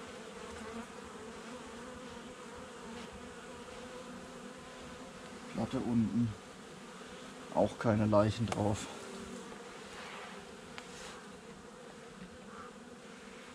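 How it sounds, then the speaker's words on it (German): Honeybees buzz from an opened hive during a winter check at about 11 degrees, with a low hum under faint background and two louder bursts of buzzing close by, while someone speaks briefly. "da kommen dann manchmal die Bienen dann auch raus."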